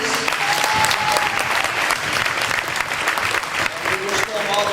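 Honorees at an AAU all-star basketball game receive sustained crowd applause, dense clapping at a steady loud level throughout, with some voices mixed in.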